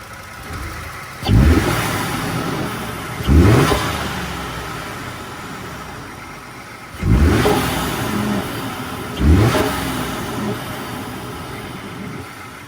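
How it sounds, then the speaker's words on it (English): A Ford F-150 2.7-litre engine with a K&N intake revs up four times in two pairs, each sharp climb in pitch settling back to a steady idle, loud and close with no talking. "I wanted you guys to hear that light acceleration video and then the revving video"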